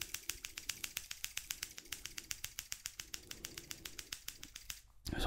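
Steel scissors snipping near the face during a quick haircut-style trim, a rapid, even run of crisp close clicks at about eight per second, loud and alone with no talk, ending in a short rustle.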